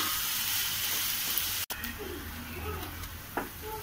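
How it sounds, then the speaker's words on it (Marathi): Finely chopped tomato sizzles as it is sautéed in a pan, a steady, close frying hiss that runs continuously, broken by one sharp click and a few faint stirring scrapes. "तो सुद्धा आपल्याला अगदी मऊ होईपर्यंत परतायचा आहे"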